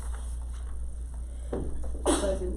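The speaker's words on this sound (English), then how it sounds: "He caught his sneeze." A single, muffled sneeze from a student in a math classroom bursts out near the end, short and stifled, against a low background hum.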